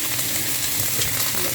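Shrimp drop into garlic frying in hot oil for butter garlic shrimp, giving a dense, even sizzle that stays loud throughout. Faint stirring is audible under it, and no one speaks.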